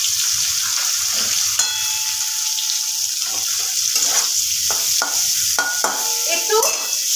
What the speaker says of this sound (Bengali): একটু সতে করে নেবো, একদম যে লাল করে ডিপ করে ভাজবো তা না, একটু সতে করে নেবো।